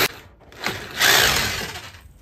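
Small screws being driven by a power screwdriver into a metal frame during a ceiling panel installation, heard as short close whirring bursts with a louder sustained run near the end.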